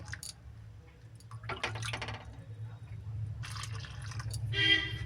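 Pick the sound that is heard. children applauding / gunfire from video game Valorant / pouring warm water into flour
pouring warm water into flour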